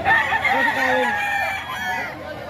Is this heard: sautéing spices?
no